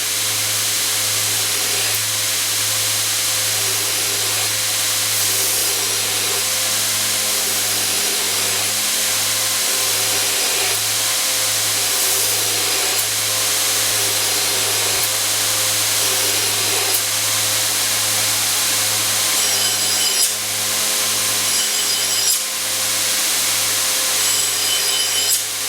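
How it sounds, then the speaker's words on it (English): A bench grinder rounds the ends of a steel part to a half-inch radius during a Portaband band saw build. The grinding is steady, close and harsh, running continuously over a low motor hum with no talk. "we'll radius it out on the grinder like so"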